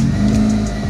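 A Mitsubishi Lancer engine cold starts and idles, a steady close engine hum with a low droning tone, running alone without talk.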